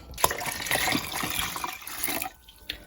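Tap water pours into a pot holding beetroot for Polish barszcz, a steady close splashing rush that holds for about two seconds and then cuts off, leaving a few faint drips.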